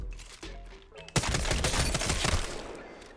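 Sustained bursts of automatic assault rifle fire in Apex Legends, rapid continuous shots that start loud after a quieter opening and keep rattling densely for a couple of seconds.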